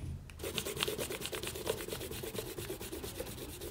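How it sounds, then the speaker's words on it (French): Pencil construction lines on a drawing of an Iron Man emoji being rubbed out with an eraser: a quick, steady run of close, soft scrubbing strokes in a quiet room. "On peut gommer nos traits de construction."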